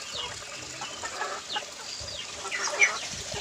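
Chickens clucking on a farm, several birds producing soft, overlapping clucks at moderate distance against quiet background noise.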